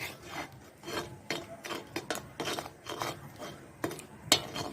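Thick palkova milk sweet being stirred in a pan on the stove, a spoon scraping and rubbing against the metal in repeated short strokes, close and fairly quiet with no voices.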